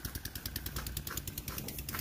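A single diesel engine pulling two kaligay runs with a steady, rapid chugging beat, a mid-level mechanical throb repeating evenly without pause and with no voices over it.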